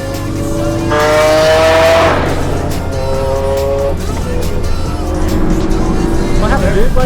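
A car is floored hard in fifth gear, giving a loud, close engine roar that builds and surges with some tire noise. Voices can be heard around it.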